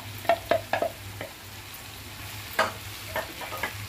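Cleaned mushrooms tipped into a pan of masala gravy for Andhra-style curry, stirred with a run of spoon taps and scrapes over a soft, steady frying sizzle.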